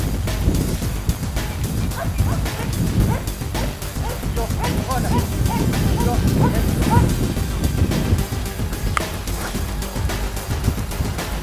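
A Belgian shepherd search-and-rescue dog barks in a few short, mid-distance bursts over steady outdoor wind and background rumble.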